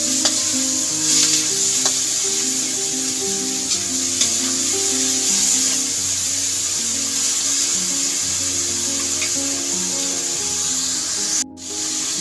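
Shredded chicken stirred in a hot pot for sotanghon soup, with a steady loud sizzle and frying hiss throughout, scraping stir strokes over it, and a brief dip near the end.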